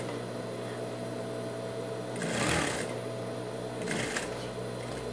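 Domestic sewing machine stitching the side seam of a dog shirt, a steady continuous whir with two brief louder bursts of faster running, close and alone with no talk.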